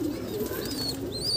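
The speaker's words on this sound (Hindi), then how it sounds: "ये किसका बच्चा है? वो है दोस्तों एक कलसरी कबूतर का बच्चा है, गजरे का।" Pigeons coo softly on a rooftop breeding loft with a Kalsari pigeon chick, several drawn-out coos and faint chirps overlapping against low background noise.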